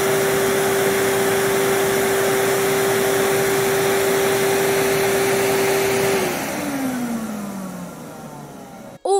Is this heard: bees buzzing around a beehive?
no